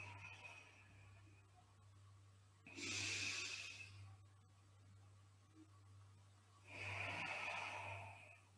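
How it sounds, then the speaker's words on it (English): Slow, deep yoga breaths during a guided routine: two long, audible airy inhale-exhale cycles close to the microphone, with a steady low hum beneath and quiet gaps between them. "Inhale as you extend. Get those rib cage to flare, and exhale slowly."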